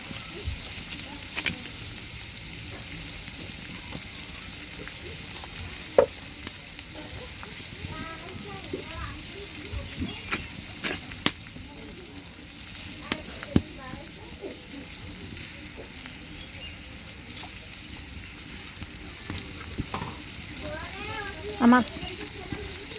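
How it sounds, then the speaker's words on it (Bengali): Onion, green chili and garlic frying in a pan, a steady soft sizzle with occasional sharp clicks and scrapes of stirring, while a voice talks over it. "পেঁয়াজ, কাঁচামরিচ এবং রসুনটা একটু লাল লাল করে ভেজে নেব।"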